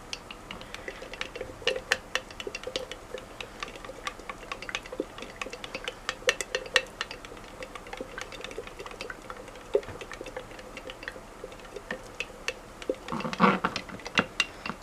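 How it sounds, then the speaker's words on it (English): Brush or palette knife blending burnt umber into a flesh-tone acrylic mix, a steady run of soft ticks, taps and scraping strokes, close and fairly quiet, with a denser flurry of clicks near the end. "We're going to put in some burnt umber. And I'll be mixing a little bit more with this"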